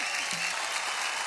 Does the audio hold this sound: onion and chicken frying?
no